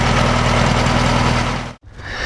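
A rotten old 1956 VW Beetle engine idles loudly with a steady chugging pulse, then is switched off and cuts out abruptly, leaving a brief quieter rustle.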